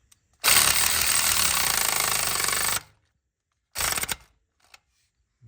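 A cordless ratchet runs in two bursts, a long buzzing whir of about two seconds and then a short one, tightening a nut during alternator replacement on a 2016 GMC Sierra / Chevy Silverado 5.3, loud and close.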